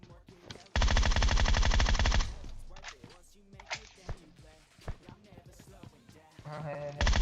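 Automatic gunfire rattles in PUBG Mobile, a dense rapid burst of about a second and a half, then scattered single sharp shots and thuds, with another burst starting at the end; someone talks between them.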